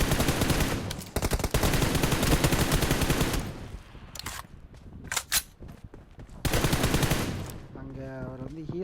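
Gunfire in the BGMI mobile battle royale game: rapid automatic bursts come in several clusters separated by brief single shots and quieter gaps, with a short tonal effect near the end.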